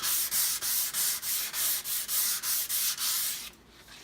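Fine 320-grit sandpaper rubs across bare mahogany in about eleven quick, even back-and-forth strokes, close and crisp, then the scratching stops.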